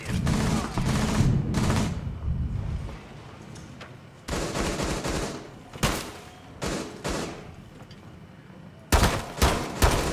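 Heavy gunfire in a Rainbow Six Siege round, rapid volleys of shots pounding a player's shield in loud clustered bursts separated by brief lulls.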